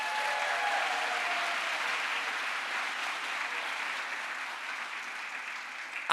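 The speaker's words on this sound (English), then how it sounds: "Can we give them a round of applause?" A round of applause from the audience at a Long Beach City College State of the College address, with sustained, even clapping from a large room that tapers slightly toward the end.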